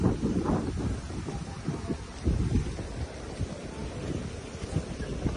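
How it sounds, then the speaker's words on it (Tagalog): Wind blowing across a mud crab and grouper farm pond as rain approaches, a steady low rushing with gusty buffeting on the microphone and no voices. "medyo mahangin na parang may nagbabadyan na darating na ulan"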